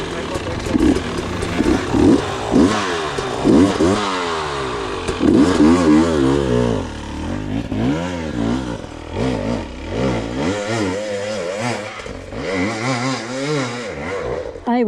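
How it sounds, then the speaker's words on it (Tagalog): A dirt bike engine revs and bogs in rising and falling surges on a rough trail, loud and close throughout. Voices talk over it. "Umiingay yung motor mo pero hindi nagsispin."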